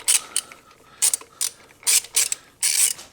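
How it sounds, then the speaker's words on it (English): A ratchet wrench clicks in several quick bursts while backing out a 10mm bolt on a CFMOTO Ibex 450 motorcycle, the close, crisp pawl rattles separated by short pauses. "while I've got the 10mm out, might as well pull this bolt"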